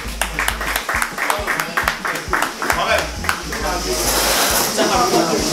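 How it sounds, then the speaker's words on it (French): A party crowd claps for a young woman called up to cut the cake, with sharp, rhythmic near claps at first that swell into a continuous wash of applause, while voices talk over it. "On peut applaudir la demoiselle s'il vous plaît."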